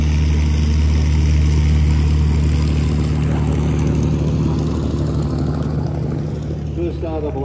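A Pilatus PC-9 turboprop flies at the Temora warbirds airshow, its loud, steady engine and propeller drone filling the scene throughout while a commentator talks over it.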